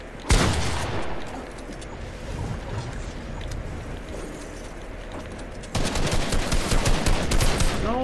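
Shooter video game gunfire crackles in rapid automatic bursts, starting with a sharp loud shot, then dense steady firing that gets heavier and louder near the end.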